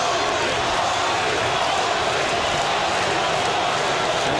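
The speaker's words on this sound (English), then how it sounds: "the Brooklynites serenade him here at the Mohegan Sun" A boxing crowd at the Mohegan Sun chants for Paulie Malignaggi, a steady loud roar of many voices filling the hall, with no break across the stretch.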